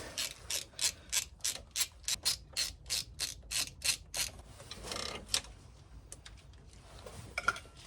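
A ratchet loosens 10mm bolts on a BMW M57 diesel engine, giving a steady run of about a dozen sharp, evenly spaced clicks. After that come some rubbing, the scrape of a part shifting, and scattered metallic taps.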